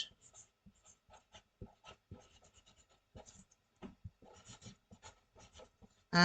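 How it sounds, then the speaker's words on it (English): A pen scratches across paper in short, irregular strokes, close and quiet, with brief pauses between words. "you just write it on a paper."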